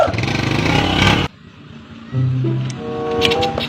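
A motorcycle pulls away with a loud, close engine roar lasting about a second before dropping off sharply, followed by voices talking.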